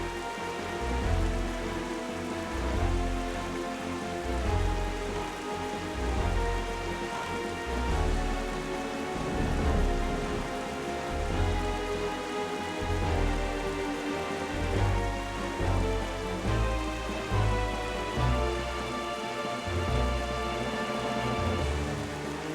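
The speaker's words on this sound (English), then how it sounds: "The storm isn't letting up at all." Steady rain pouring down in a video game, The Legend of Zelda: The Wind Waker on GameCube, over a looping musical score, the downpour a constant hiss beneath sustained tones and a pulsing low bass.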